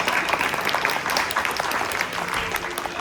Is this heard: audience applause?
yes